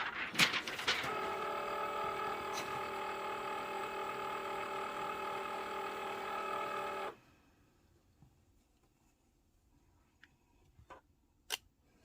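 A Cricut cutting machine powers on and loads material, giving a steady mechanical whir with layered tonal hum and ratcheting clicks for about seven seconds, then stopping abruptly, followed by near silence with a few faint clicks.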